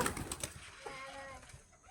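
A flock of pigeons being fed coos softly and repeatedly, the low murmuring calls faint against a busy outdoor background.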